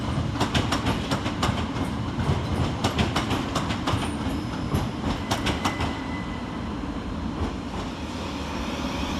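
Southern Railway class 377 electric unit 377454 rolls into Redhill station, a steady loud rumble with rhythmic clickety-clack wheel beats and a brief faint squeal, no voices.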